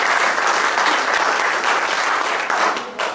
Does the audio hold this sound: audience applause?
yes